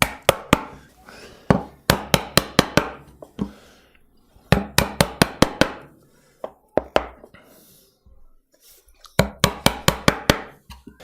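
Chisel trimming wood down to a layout line while carving a side table with bow tie keys, heard as bursts of sharp, close mallet-driven taps in quick clusters separated by short pauses.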